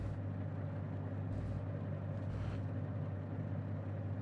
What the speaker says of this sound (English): Engine started successfully.